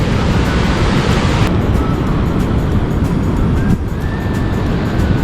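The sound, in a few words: waterfall rushing water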